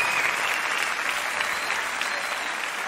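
Concert audience applauding at a live show, a dense, steady roar of clapping from a large crowd heard continuously throughout.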